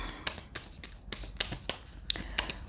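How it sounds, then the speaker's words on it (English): Oracle cards being shuffled by hand, a quick series of soft riffling snaps and taps at close range, with no one talking. "It's just difficult to shuffle in the way that I shuffle"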